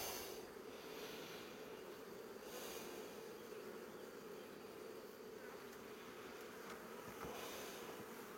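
Dense, steady buzzing of a large honeybee swarm leaving a hive, a continuous loud drone with no pauses and no voices throughout.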